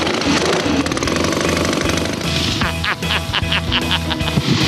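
A motorcycle engine starts after the fuel is turned on and the carburetor is tickled, then settles into a loud, close, rapid rattling idle with steady pulsing.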